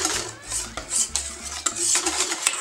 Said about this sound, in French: On va venir ajouter un petit peu de lait sur cette préparation et on va tout de suite battre pour éviter la cuisson de nos œufs.